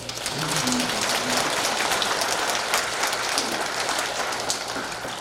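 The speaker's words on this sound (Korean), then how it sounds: "큰 박수로" Dense, sustained applause from a church audience at an Advent lecture, a steady wash of many hands clapping together, fairly loud and even throughout with a faint low hum beneath.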